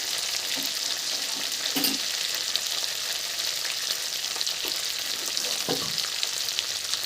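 Black cumin paste and two dried chillies frying in hot oil for a tempering, a loud dense sizzle that holds steady throughout with a few faint stirring taps.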